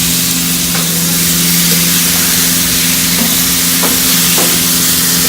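Constant loud sizzling of taco meat on a hot grill, an unbroken hiss with a faint low engine drone in the background.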